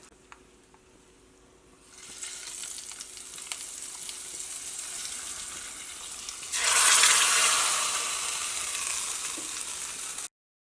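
Hot tempering poured into Kalan, a Kerala Onam sadya curry, sets off a steady sizzle that surges sharply louder partway through and then hisses on without any talk.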